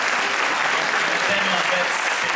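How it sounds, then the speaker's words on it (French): An audience at a school jazz band farewell concert claps for Monique, a dense, even wash of applause that continues throughout, with a few voices mixed in. "donnez une main d'applaudissement à Monique, s'il vous plaît."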